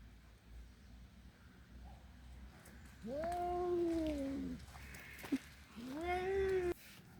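A ginger cat out on a walk gives two long drawn-out, wailing meows a few seconds apart, fairly close, with a voice talking around them.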